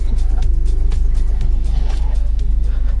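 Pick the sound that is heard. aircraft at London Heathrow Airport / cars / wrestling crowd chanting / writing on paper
cars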